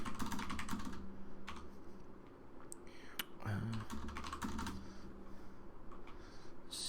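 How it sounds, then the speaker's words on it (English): Rapid computer keyboard keystrokes tap in irregular bursts at close range while setting up a Cinema 4D and Octane render, with a steady low hum underneath and a brief murmur partway through. "You're probably gonna hear a bunch of keystrokes, which I don't want to have happen."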